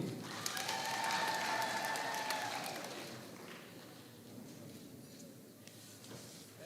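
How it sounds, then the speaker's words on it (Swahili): An audience claps in appreciation at a parish anniversary celebration, a dense burst of applause that swells early and then thins and fades toward the end. "Asanteni sana, batuwapigie makofi."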